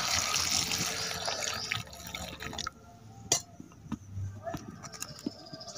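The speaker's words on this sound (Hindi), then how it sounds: "एथिरे पानी देवा" Water poured into a cooking pot for an oil-free tribal-style jungle fruit curry, a steady broadband splashing stream for the first couple of seconds, then quieter trickles and drips with occasional clunks close by.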